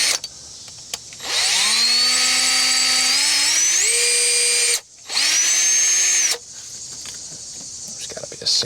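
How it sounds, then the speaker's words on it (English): A power drill bores out a throttle cable bracket on a 1970 Ford Falcon, whining loud and close in two long bursts with rising pitch, separated by a brief pause, then quieter shop ambience. "we gotta drill that out just a hair"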